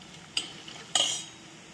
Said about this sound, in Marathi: इथं हळद लाल मिरची छान परतून घ्यायचं